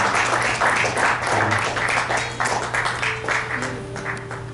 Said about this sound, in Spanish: Recibe, Padre glorioso, un aplauso de parte de tu pueblo